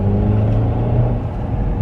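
A 2017 Mercedes-Benz E300 with a four-cylinder turbo engine pulls under acceleration, heard from inside the cabin as a steady, loud low drone with a faint whir on top and no letup.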